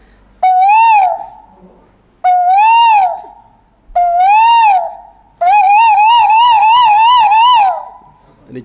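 A man whistles a koel cuckoo imitation: three loud, clear, rising notes spaced apart, then a longer warbling trill, close and alone.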